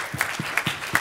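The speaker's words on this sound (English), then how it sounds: "So I'd like to give a big round of applause to all of them." Audience applause for teaching staff at a college gathering, heard as a few sparse, distinct claps in a slow irregular rhythm, fairly close and alone.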